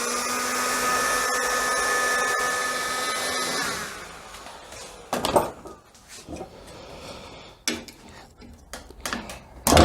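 A heat gun warms a Loctited bolt on motorcycle forks during a V-Strom front-end swap. It blows with a steady, loud roar for about four seconds, then cuts off, followed by scattered metallic clinks and knocks.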